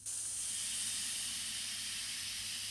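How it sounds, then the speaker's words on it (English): Steam produced by heating water in a plutonium-fueled power plant hisses steadily and evenly throughout, a constant bright rush over a faint low hum with no voices. "This energy is used to heat water, producing steam."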